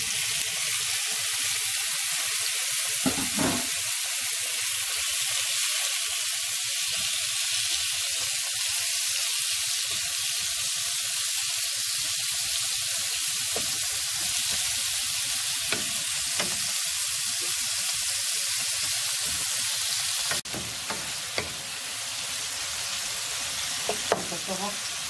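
Marinated pork frying in a pan, a steady loud sizzle running throughout with occasional soft scrapes and knocks of stirring, close and uninterrupted.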